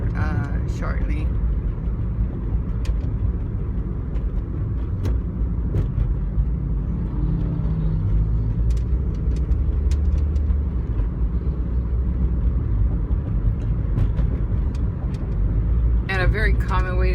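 A car cruises on the 10 freeway, with a steady low road and engine rumble beneath continuous nearby talk and occasional faint clicks and passing traffic.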